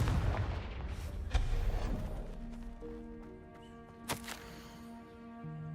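Confringo fire spell from Hogwarts Legacy blasting, heard as a loud crackling explosive burst that decays into ringing tonal game ambience, followed by a sharp second impact near the end, with no talk.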